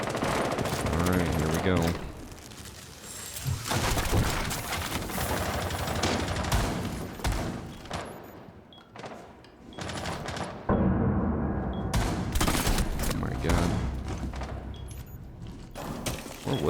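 Video game gunfire during a live stream: dense bursts of automatic weapon fire and single shots, loud and close, with brief pauses and someone speaking over parts of it.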